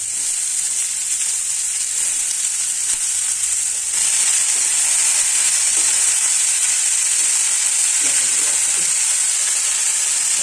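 Finely chopped cabbage, beans, carrot and capsicum fry in a pan for momo filling, producing a loud, continuous hissing sizzle throughout with a few soft stirring touches.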